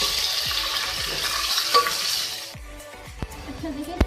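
Chicken pieces frying in a pan, sizzling steadily with a broadband hiss while being stirred, with repeated scraping and clinking strokes; the sizzle drops away midway, leaving sparser stirring knocks.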